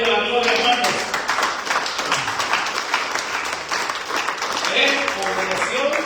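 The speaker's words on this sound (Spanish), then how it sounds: "den un aplauso al Rey de la Gloria, hermanos" Church congregation clapping together for the King of Glory, a brief burst of fairly loud, dense applause with voices and talk running over it.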